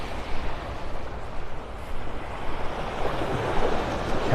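Small ocean waves wash steadily onto the beach at Delnor-Wiggins in North Naples, Florida, as a continuous broadband surf roar mixed with wind noise on the microphone, fairly loud and near.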